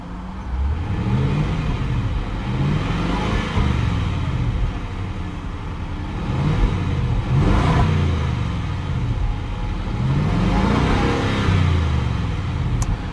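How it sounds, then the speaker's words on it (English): Supercharged 5.0 V8 of a 2021 Range Rover Sport SVR revving repeatedly in loud, close bursts, each rise and fall of the engine note following quickly on the last, with a steady idle rumble underneath and no talk. "And we'll go ahead and here she sounds."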